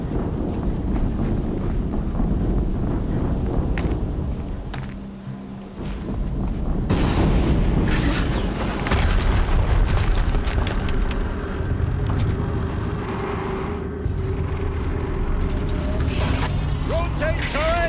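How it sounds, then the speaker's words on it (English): Explosions and heavy combat rumble in the video game Horizon Zero Dawn, Maker's End mission, with loud sustained booming and crackling over a continuous low roar, a brief lull midway, then renewed blasts. "Another explosion."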